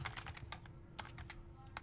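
Fingers tap a computer keyboard in quick, uneven bursts of close, crisp clicks while entering a command, faint and alone.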